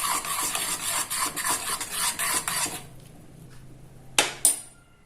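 A spoon stirs and scrapes around a pot of herbal karpooravalli tea with jaggery, making a continuous gritty rasping for a few seconds before stopping, followed by two sharp clinks of the spoon against the pot.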